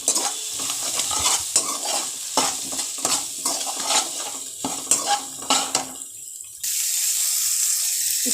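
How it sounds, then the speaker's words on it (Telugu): Brinjal fry being stirred in a pan, with repeated scraping and clattering strokes of a spoon against metal over a light sizzle, close and loud, ending in a steady hiss like running water. "ఇప్పుడు బాగా కలుపుకోవాలి"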